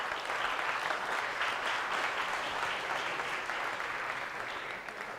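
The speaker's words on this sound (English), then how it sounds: "You can clap." Steady applause from a lecture audience, a dense, even wash of many hands clapping that holds for several seconds before easing slightly toward the end.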